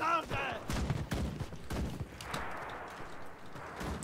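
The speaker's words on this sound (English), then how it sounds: "A load of shooting" Rapid bursts of gunfire in the World War II shooter Enlisted, fired by an MG 30 squad, crackling near and loud in repeated volleys while someone talks over the action.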